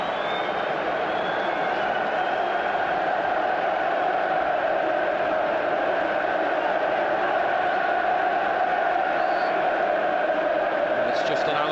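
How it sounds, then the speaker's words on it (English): Liverpool supporters cheer in a packed stadium near the end of a football match against Newcastle United, a steady, distant crowd roar holding for several seconds with no let-up. "the cheer from the Liverpool fans"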